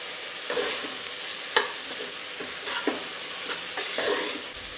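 A spiced mixture with coriander-cumin powder, turmeric, salt and garam masala stirred in a pan, soft sizzling under repeated scraping spoon strokes in an uneven rhythm, close and moderately quiet.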